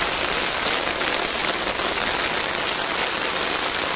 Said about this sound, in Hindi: ज़्यादा बारिश हो तो ज़्यादा पानी आता है।